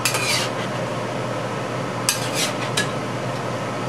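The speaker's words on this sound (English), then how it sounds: "Stir a few times." Peas and tofu being stirred in a pan, with a utensil scraping and clinking against the cookware in a few short bursts over a steady background hiss.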